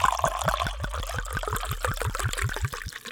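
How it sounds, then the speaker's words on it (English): A drink pours into a glass up close, with a rapid glugging rhythm of about a dozen regular bubbling pulses over a constant liquid trickle, heard alone and fairly loud. "Put your volume up, time for the pour."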